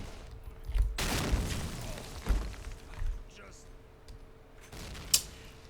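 Gunfire and explosions burst from a firefight in the video game Repulse, with a heavy blast and scattered shots and thuds over a few seconds, mixed with a voice talking.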